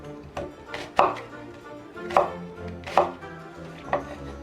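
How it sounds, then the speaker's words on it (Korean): A knife cuts an onion into chunks on a cutting board, five or six distinct thuds at an uneven, unhurried pace, close and clear. "양파 한개 네, 썰어주세요."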